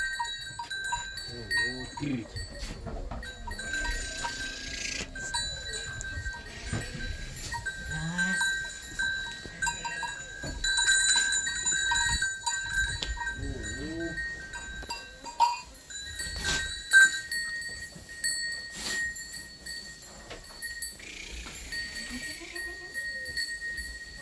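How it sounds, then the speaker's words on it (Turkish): Sheep wearing bells in a Turkish village setting near an old mill: scattered metallic bell clinks ring out continuously over the whole stretch, with faint bleats and shuffling livestock close by and some rustling movement. "bugün koyunlarımıza çanları takacağız"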